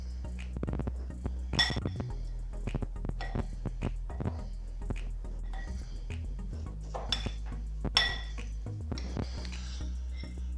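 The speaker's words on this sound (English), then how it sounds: "And I'll mix those ingredients thoroughly" Falafel mixture of chickpea flour, herbs, garlic and onion being stirred in a bowl, with irregular clinks and scrapes of a utensil against the bowl over a low steady background hum, no talking.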